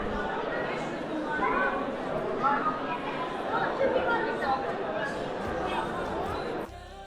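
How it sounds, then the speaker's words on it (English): Dense crowd chatter fills Istanbul's Grand Bazaar, a busy indoor market, many overlapping voices at close and middle distance, ending with a sudden drop. "Welcome to the Grand Bazaar in Istanbul"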